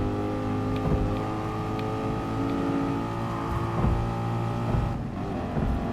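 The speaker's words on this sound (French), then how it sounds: "Le bruit qu'on a en sous-régime, elle a un beau bruit je trouve" Car engine idling and pulling at low revs in the GT Sport racing game, a steady harmonic drone with rising and falling pitch sweeps, close and continuous with no talk.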